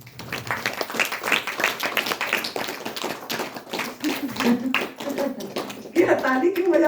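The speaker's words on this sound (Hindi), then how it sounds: "ताली बजा दो," An audience at a spiritual discourse claps in a dense patter of taps under ongoing speech, with a brief louder swell near the end.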